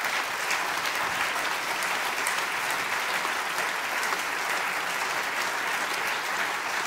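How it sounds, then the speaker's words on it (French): A seated audience at a youth stage show claps steadily for people called up on stage. The dense applause is even and sustained, with nothing else heard. "Nous pouvons les applaudir."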